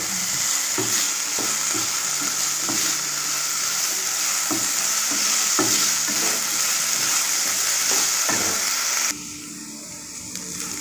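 Potatoes sauté in hot oil for a Kerala sadya-style vada koottu curry, with a steady, loud sizzle close by and intermittent scrapes and knocks of stirring. Near the end the frying hiss drops back abruptly.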